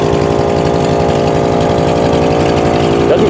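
A 1955 Ford Fairlane V8 with very old exhaust and mufflers idles steadily and loudly up close, a rough, continuous low rumble with no talk over it.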